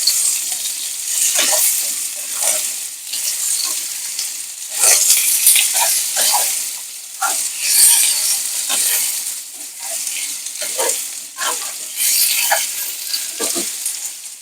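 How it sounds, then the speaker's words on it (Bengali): Eggplant pieces fry in hot oil in a pan for a Bengali fish curry with mixed vegetables, a bright, hissing sizzle with frequent scraping strokes as the pieces are turned, close up and without voices. "বেগুনটা একটু আমি নেড়ে ছেড়ে লাল করে ভেজে নেবো একটু"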